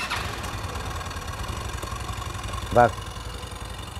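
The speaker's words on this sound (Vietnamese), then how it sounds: "Và anh em khởi động động cơ cho mình." A Yamaha Luvias GTX scooter with an idle control valve fault idles steadily, a low, even putter running throughout, while someone briefly says a word.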